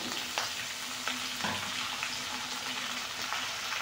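Curry leaves and spices sizzle in hot oil for kaara pongal, a steady crackling fry with faint stirring scrapes and small pops, close but fairly quiet, with no voices.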